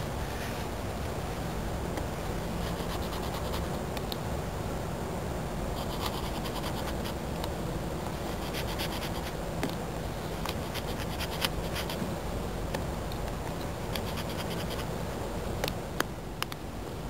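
Steady close scraping of a knife notching a papery birch bow drill set piece, a continuous rasping scratch with faint clicks running without pause throughout.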